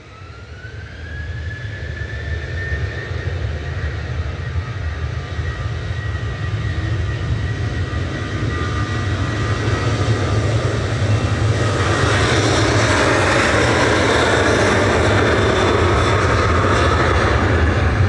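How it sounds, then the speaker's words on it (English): An EasyJet airliner arriving at Manchester Airport, its jet roar building steadily from a distant rumble to a loud, sustained wash of engine noise, with a rising whine near the end. "Next in is EasyJet from Palmer."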